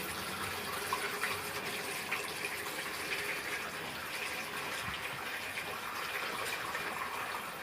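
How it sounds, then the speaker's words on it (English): Fermented milk liquid poured through a sieve to strain out the solids, heard as a steady, quiet trickle and gush of liquid running continuously throughout. "We're going to sieve out those solids so that we leave just the liquid solution."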